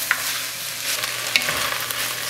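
Onions sauté in a pan for butternut squash soup, giving a steady soft sizzle up close with a few light stirring clicks and scrapes.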